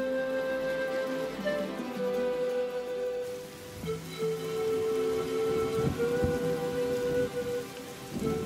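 Steady rain patters on surfaces throughout a spring storm on open plains, with low thunder rumbling beneath it and a sustained tonal hum running through the background.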